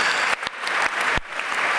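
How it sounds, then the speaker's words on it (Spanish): Audience applause at a sports conference meeting, a short dense round of clapping with a few brief dips and knocks, fairly loud and near. "Un aplauso para ella."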